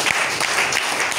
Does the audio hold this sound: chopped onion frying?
no